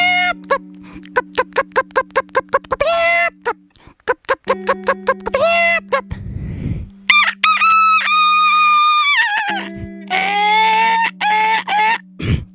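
A man imitates rooster crowing and hen clucking with his voice, running through rapid staccato clucks, a long drawn-out cock-a-doodle-doo crow, then more loud clucking, all close and alone.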